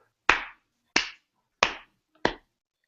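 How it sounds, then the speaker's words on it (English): Four slow, evenly spaced hand claps ring out one by one, each a sharp close smack with a short decay and silence between. "Slow clap."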